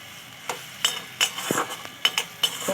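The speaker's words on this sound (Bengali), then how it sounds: "এবারে আমি টমেটো আর সরষে পোস্ত একসঙ্গে ভালো করে 1 মিনিটের মতন ফুটিয়ে নেব" Tomato and mustard-poppy paste bubbling in a pan, soft simmering pops and sputters mixed with several crisp spoon clinks and scrapes against the metal, close up and without speech.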